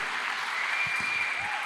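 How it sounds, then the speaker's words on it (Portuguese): A church congregation at an in-person service claps in a steady, dense crowd applause, with a few low thumps near the middle; no clear speech. "Pode aplaudir Jesus."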